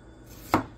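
A single sharp knife chop lands on a cutting board while vegetables are prepped in a kitchen, close and crisp after a quiet moment.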